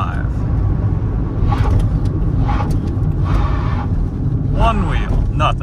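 A 1998–2002 Toyota Corolla with a faulty brake master cylinder drives at speed during a brake test, giving a constant loud road and engine rumble while someone talks over it.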